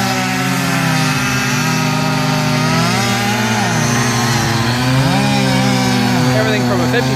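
Several chainsaws cut wood together at a chainsaw meet, their engines droning loudly and overlapping, pitches rising and falling as they bog into cuts and rev up again, continuous and close.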